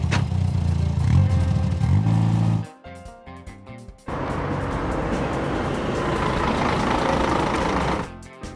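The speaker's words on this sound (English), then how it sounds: "Auto transport truck." Animated auto transport truck engine drones and revs loudly, drops out briefly, then returns as a rough mechanical rumble before cutting off.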